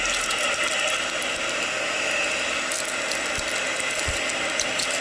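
A heat gun blows a loud, steady whirring rush of hot air close by while shrink wrap tightens around a bar of soap, with faint ticking and mechanical rattles beneath the constant drone, no talking.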